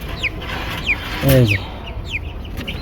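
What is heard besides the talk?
chickens clucking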